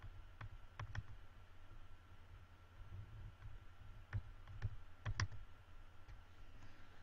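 Mouse clicks while working with a selection tool in Photoshop: sharp, quiet clicks in irregular clusters, several in quick pairs, over a low steady hum of the computer.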